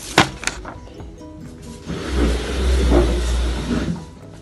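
A car engine starts and runs at a steady, low rumble after a few sharp knocks like a door closing, fairly close by, with no talk over it.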